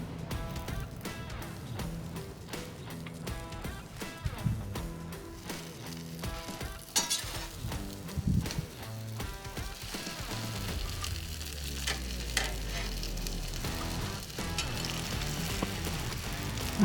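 Buns toast in garlic butter on a flat griddle, a soft continuous sizzle under faint background music, fairly quiet and steady throughout.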